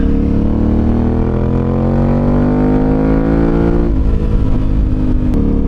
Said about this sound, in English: this is how the bike sounds like with that as well. So I'll shut up for a second so you can see how much bike noise you get